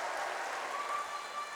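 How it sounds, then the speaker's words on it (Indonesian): A debate audience for the Ambon 2017 mayor and deputy mayor candidate pairs applauds in a steady, even wash of clapping that fades slightly toward the end. "saya berikan kesempatan kita memberikan aplaus yang meriah kepada kedua pasangan calon"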